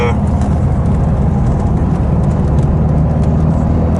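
A Lotus Esprit V8 sports car cruises at low revs under 3,000 RPM, a steady dense engine and road rumble inside the cabin with a constant even level throughout.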